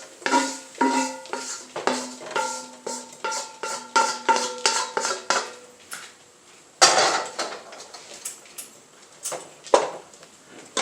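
A utensil scrapes cooked vegetables out of a pan into a 4-quart pot in a series of close, rhythmic metallic scrapes and clinks, then a few heavier knocks after a short pause.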